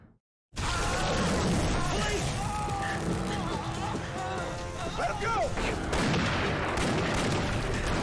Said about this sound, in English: Not them shooting bullets into a hot lava creature.